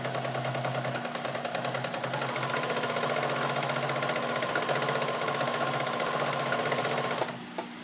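A sewing machine runs steadily, stitching a denim apron made from old jeans, with a fast, even mechanical chatter that holds for about seven seconds before stopping abruptly near the end.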